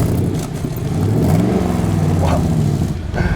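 A 1966 Corvette Sting Ray with a 350 HP LS1 engine revs up from a start, rising then settling, close and fairly loud.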